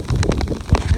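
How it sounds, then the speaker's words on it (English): A strong storm gust of roughly 10 to 15 mph in Jesup, Georgia, strong enough to bend trees and tug at an umbrella, buffets the microphone as a broad, roaring rumble that swells and surges twice in a brief, close burst. "It's probably a good 10-mile-an-hour gust, 15."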